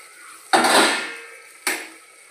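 Biryani masala, tomato and rice stirred in a clay pot: two scraping strokes against the pot, a long loud one followed by a shorter one, close and alone.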